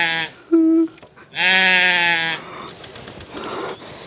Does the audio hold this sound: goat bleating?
yes